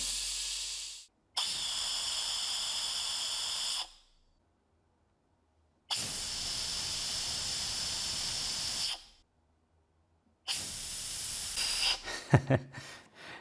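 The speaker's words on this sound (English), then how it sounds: "The only reason I'm testing this with compressed air is to make sure this won't disintegrate once I give it pressure." Compressed air hissing through a homemade variable rocket nozzle, three loud, steady blasts of a few seconds each separated by silence, the last ending in sputtering bursts.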